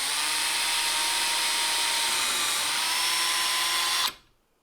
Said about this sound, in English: drill in between the 2 clamps that I have down and drill not all the way through this 1x4